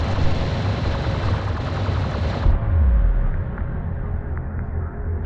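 Rapid automatic gunfire rattles against a light attack vehicle in the desert real-time strategy game Homeworld: Deserts of Kharak, a loud sustained burst over rumbling battle noise that thins out partway through.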